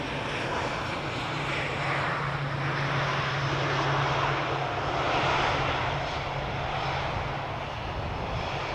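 A Turkish Airlines airliner climbs away from Schiphol Airport with a steady, broad engine roar that holds at a moderate distance for several seconds.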